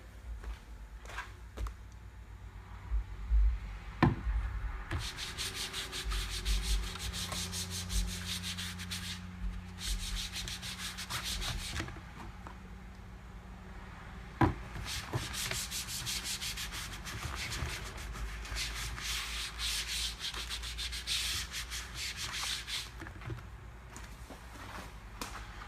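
A microfiber applicator rubs silicone dressing onto plastic car trim in steady, close, scrubbing strokes that come in repeated bursts with brief pauses, and no voices are heard.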